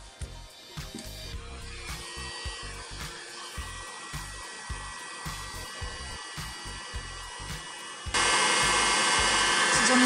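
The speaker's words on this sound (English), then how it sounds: "when the heat gun becomes a bit hotter" A heat gun on its low setting blows over acetate with a steady airy whir beneath some clattering handling noise, then jumps suddenly to a louder, fuller roar near the end.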